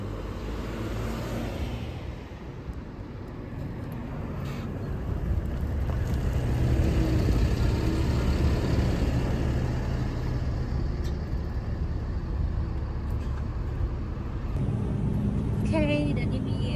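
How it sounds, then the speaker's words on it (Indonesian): Bus pulling up at a roadside stop in Oman, a heavy engine rumble building and idling nearby with steady low traffic noise throughout, while a person talks over it. "Akhirnya busnya datang juga setelah nunggu sekitar 6 menit."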